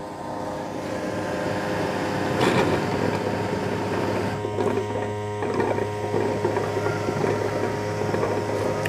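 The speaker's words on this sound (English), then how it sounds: "You're going to hear that brush going back and forth." Roborock S8 Pro Ultra dock scrubbing the robot vacuum's mop with a brush that moves back and forth, a steady mechanical hum with rhythmic churning and water swish, close and alone.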